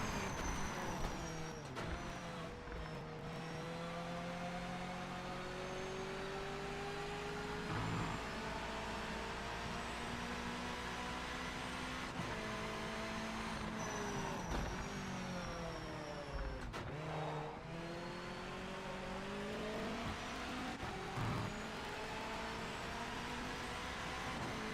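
Race cars circle a track during a practice session in the Project Motor Racing video game, their engines droning steadily while pitch sweeps rise and fall as several cars pass in turn. No one speaks.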